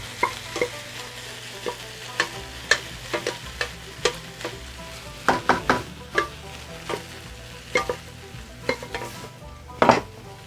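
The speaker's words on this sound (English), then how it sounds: "Get that rice in there. This is just 1 cup of cooked rice." One cup of cooked rice is stir-fried in a hot pan for fried rice: a soft sizzle under a run of sharp, irregular spatula scrapes and taps against the pan, up close and without speech.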